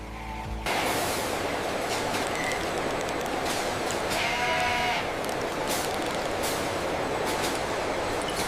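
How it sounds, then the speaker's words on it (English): Goats are unloaded at a processing plant, their bleats rising over a loud, constant mechanical rumble and hiss, with one longer cry standing out midway. "The goats are unloaded carefully, with workers guiding them through a calm and controlled receiving path."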